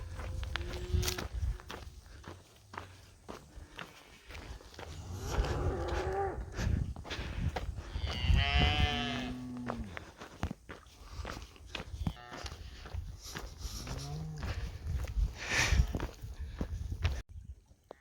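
A herd of hundreds of cattle moos along a high-country section of the Colorado Trail, with several loud, drawn-out calls rising over the steady crunch of hikers' footsteps on the path.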